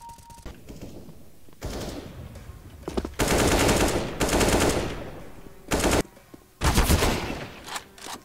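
Automatic gunfire from the video game CS:GO comes in several loud, rapid bursts separated by short quieter gaps, heard close with no talking.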